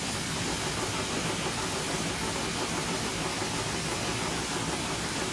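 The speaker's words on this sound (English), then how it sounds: "the engine plays sounds of the valve gear clanking as it rolls along and you shut the throttle" A steady, unbroken hiss of steam with a low rolling rumble beneath, from an LNWR G2 steam locomotive in a train simulator game as it coasts with the throttle shut. Separate valve-gear clanks are not distinct.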